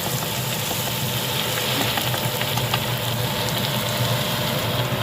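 Chopped capsicum and potatoes fry in a pan while being stirred, a dense, loud, constant sizzle with occasional spatula scrapes close by.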